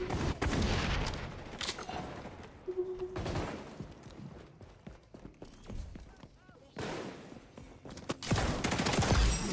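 Double barrel shotgun blasts go off in the shooter game XDefiant, several heavy booms among busy in-game noise, with a player's voice talking over it.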